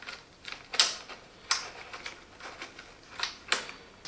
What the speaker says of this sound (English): remove the chain and from the front, loosen the chain